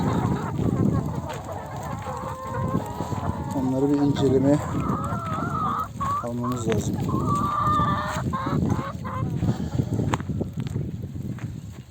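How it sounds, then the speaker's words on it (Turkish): Village chickens cluck and squawk around a farmyard while someone talks over them, the birds busy and close throughout. "Dışarı çıkan tavuklar köy tavukları"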